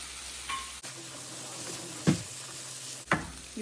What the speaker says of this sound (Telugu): ఇప్పుడు దీంట్లోకి శనగలు వేసి కలుపుకుందాం. కొంచెం పసుపు కూడానండి.